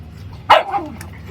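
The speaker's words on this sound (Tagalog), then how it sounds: "Yung mga aso ko, pag binibigyan ng isa, nag-aaway sila." A dog gives one sharp bark followed by a short yelp, brief and close, part of pet dogs squabbling over food.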